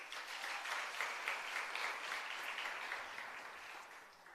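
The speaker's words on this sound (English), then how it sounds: "Can you give him a round of applause?" Audience applause for an acting CEO introduced on stage at a hybrid capacity building workshop, a steady wash of many hands clapping that holds level before easing slightly toward the end, with no voices over it.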